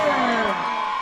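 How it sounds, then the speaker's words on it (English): Supporters at a primary school athletics championship keep up a steady stream of crowd cheering and shouting through the whole moment. "So the supporters, Glenn Stewart to our right, they're cheering on."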